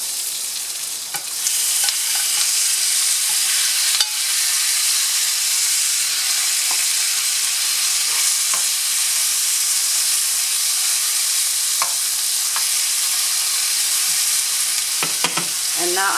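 Eggplant sizzles steadily in a hot frying pan, a loud continuous hiss broken by occasional scraping stirs near the end.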